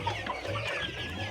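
Layer chicks cluck steadily at close range, a continuous busy flock chatter with overlapping calls and no talk over it.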